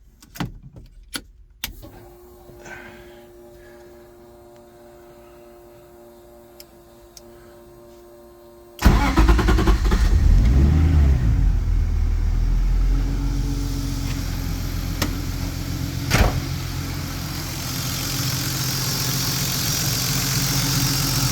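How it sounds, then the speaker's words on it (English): A tuned car engine, straight piped from the turbo, cranks and catches, then settles into a steady, fairly loud idle with a low rumble; faint ticking and clicks come before it starts. "nice and quiet engine"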